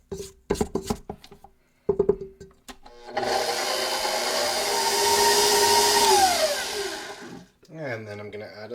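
A stand mixer churns apple fritter dough with a steady loud whir for several seconds, slowing and winding down near the end, after a few knocks and scrapes and some talk.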